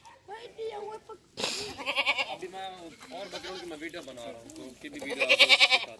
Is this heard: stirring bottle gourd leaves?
no